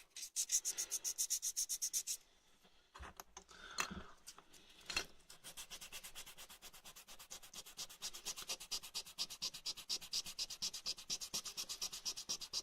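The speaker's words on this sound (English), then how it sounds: "I don't want to go any coarser with the sandpaper than this" Sandpaper rubbed back and forth over a Classic Mini rocker switch, a fast rhythmic rasping stroke pattern, close and fairly loud, pausing briefly with a few clicks before the steady scrubbing resumes.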